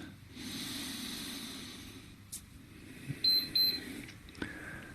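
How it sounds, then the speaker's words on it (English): An exercise interval timer beeps during a passive stretching session, a few short electronic tones sounding faintly over quiet breathing and room noise. "There's the timer."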